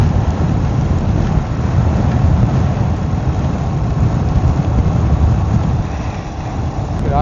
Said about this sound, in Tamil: இந்த கடற்பகுதி இந்த நீர்களும் வந்து எல்லாம் கொந்தளிச்சு வந்து நிற்குது